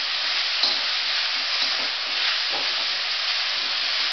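Mushrooms sizzling in a pan on maximum heat, a steady, loud hissing fry with faint stirring bumps and no talk over it.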